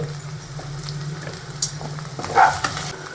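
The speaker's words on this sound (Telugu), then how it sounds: "ఓ టేబుల్ స్పూన్ అల్లం పేస్ట్ పచ్చివాహన పోయేంత వరకు వేయించుకోవాలి" Ginger paste with a pinch of turmeric frying in a pan, a continuous close sizzle with a low steady hum underneath and a brief louder burst of spitting and stirring near the end.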